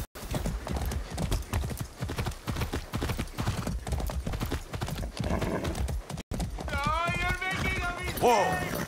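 Horse hooves clip-clop in steady rhythm throughout a ride in the video game Far Cry 6, loud and near, under game voices, and a horse neighs and whinnies near the end.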